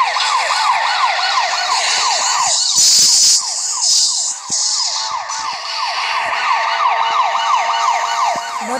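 Police car siren in the racing game Asphalt Nitro, with fast wailing sweeps repeating steadily over game engine and music sounds, loud throughout, plus a brief burst of crash-like noise near the middle.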